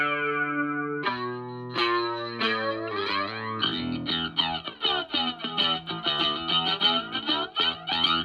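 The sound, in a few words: bass through Waves Kaleidoscope plugin, filter effect coming in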